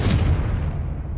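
Confringo explosive spell blast in the Hogwarts Legacy video game, a single deep booming burst with heavy low rumble that decays over about a second.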